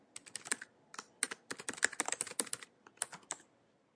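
Quick, uneven bursts of keystrokes on a computer keyboard as an email address is typed, close and crisp, with short pauses between clusters of taps and no voices.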